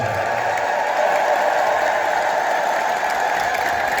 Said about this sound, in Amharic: እግዚአብሔርን እልል ብላችሁ አመስግኑት